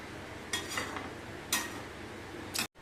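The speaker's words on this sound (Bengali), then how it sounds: "একটু মিশিয়ে নেওয়া হচ্ছে।" A spoon stirs and mixes pabda fish curry made with sesame, mustard, poppy seed and green chillies in a pan, giving three short scraping clinks against the metal over a quiet background.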